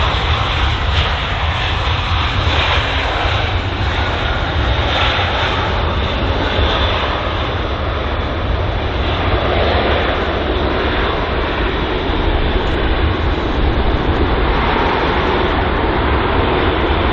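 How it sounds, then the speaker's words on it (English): A British Airways Airbus A320-200 jet at London Heathrow produces a loud, continuous engine roar with broadband rushing noise that holds steady throughout, close and unbroken. "So this aircraft here is a British Airways A320-200."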